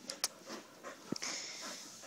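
A dog pants and sniffs in quick, soft bursts close by, with a few small clicks and breaths in a quiet room.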